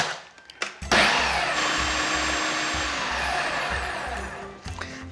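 A Philips Premium All-in-One blender blitzes a yoghurt sauce for lamb ribs in one loud, steady motor whir that starts abruptly after a brief pause and runs evenly for several seconds before cutting off.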